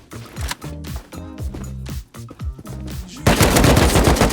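AK rifle fire in a video game sounds as rapid, loud bursts of automatic shots in quick clusters, then a denser, sustained blast of noise at the end, with no talking.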